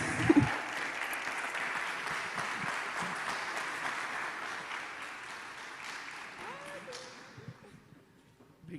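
An audience at a business gathering in a church applauds to welcome speaker André Menezes, with dense, sustained clapping that fades away near the end.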